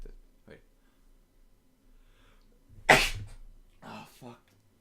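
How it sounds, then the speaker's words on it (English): One sharp, loud sneeze bursts out near the microphone, followed by a couple of short coughs, with faint breathing and quiet room noise between them. "I'm like sneezing and coughing every other minute it feels like"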